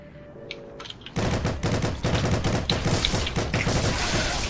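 Heavy automatic gunfire in the online shooter Heroes & Generals, starting abruptly after a quiet beep and then sustained as dense, loud volleys of rapid shots with sharp cracks.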